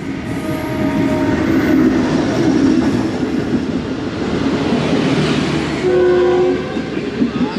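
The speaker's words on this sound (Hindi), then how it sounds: "GV40 लीड कर रहा है जी ग्रीन लाइन को, मारगला से निकली है कराची के लिए" A GV40 locomotive leads the Green Line passenger train from Margalla toward Karachi through Bhiria Road station in Sindh, a loud steady rumble of wheels and engine with a horn sounding near the end.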